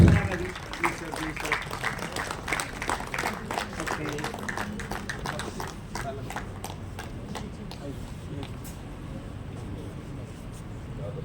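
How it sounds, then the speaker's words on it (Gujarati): Sustained audience applause at a state and national awardees' federation event in Gandhinagar, a dense wash of clapping that starts loud and continues steadily for the whole stretch, with an announcer's voice audible over it. "ખૂબ ખૂબ તાળીઓ સાથે"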